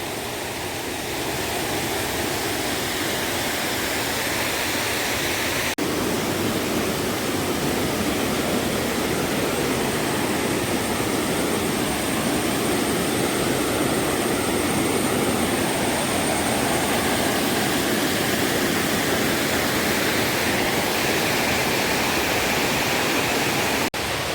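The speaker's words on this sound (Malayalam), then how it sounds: "ഇതാണ് മാടത്തരുവി വെള്ളച്ചാട്ടം." Madatharuvi waterfall near Ranni pours in a steady, loud, unbroken roar of rushing water that fills the whole stretch with dense broadband noise, heard close and alone without voices.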